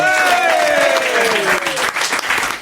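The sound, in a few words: audience applause welcoming a guest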